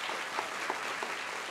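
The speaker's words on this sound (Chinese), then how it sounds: "给点掌声" Audience applause at the opening ceremony of a recital hall and TV studio, a steady wash of clapping from a crowd, moderately loud and continuous.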